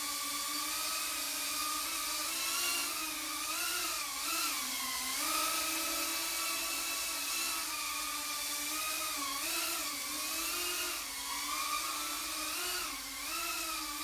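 A KingKong 90GT RC helicopter in flight gives a steady, continuous whine whose pitch wavers up and down as it maneuvers, heard alone without voices.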